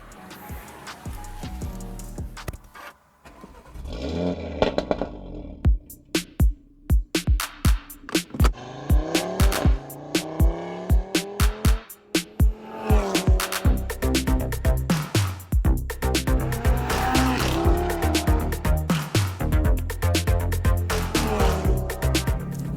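An Audi RS3 hatchback's engine and exhaust are heard on the road near Sepang, rising in pitch through repeated hard revs with sharp crackles and pops. The sound is loud and close, with no talking.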